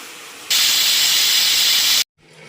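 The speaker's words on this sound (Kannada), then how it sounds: "ಕುಕ್ಕರ್ ಲಿಡ್ ಕ್ಲೋಸ್ ಮಾಡಿ ಒಂದು 3 ವಿಷಲ್ ಕೂಗಿಸ್ಕೋಬೇಕಾಗುತ್ತೆ" A pressure cooker whistle bursts out loud and close, a sustained steam hiss lasting about a second and a half, then cuts off abruptly into quiet.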